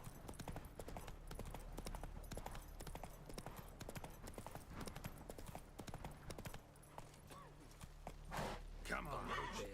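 Roach the horse's hooves in The Witcher 3 video game, a quick steady clip-clop of walking footfalls throughout, with a voice talking over them and a brief whinny-like sound near the end.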